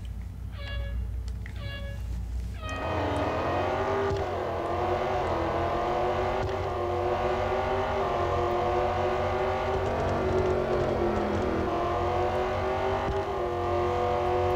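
A few short electronic beeps, then a Jaguar F-Type SVR engine in the game Real Racing 3 roars in and holds a steady, revving drone that shifts pitch with throttle, loud and continuous.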